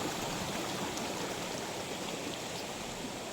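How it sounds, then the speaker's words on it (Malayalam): A steady, broadband rush of falling water from the Poolankund waterfall in Kerala, constant and fairly loud throughout, heard close by with no voices. "ഈ വെള്ളച്ചാട്ടം പേരെന്തിട്ടാ പൂളാങ്കുണ്ട് വെള്ളച്ചാട്ടം"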